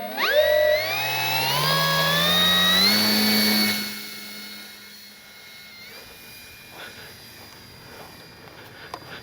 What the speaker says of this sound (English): Alright, motor's on.